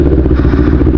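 A CFMoto NK400 motorcycle engine runs close and loud after starting, a dense, steady low rumble with a rapid clattering pulse.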